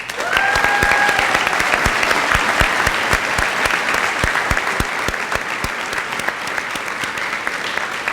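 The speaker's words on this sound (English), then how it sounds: "Would you please stand and receive a well-deserved round of applause?" A large audience at a high school graduation ceremony claps steadily and loudly throughout, a dense, sustained round of applause with no voices rising above it.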